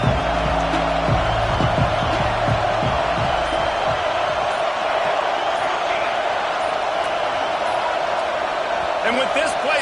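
Stadium crowd at a college football game roaring in a sustained, dense wall of noise throughout, with some low thumps early on and a commentator's voice layered in.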